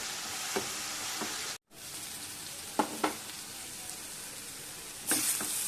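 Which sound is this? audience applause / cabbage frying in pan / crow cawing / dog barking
cabbage frying in pan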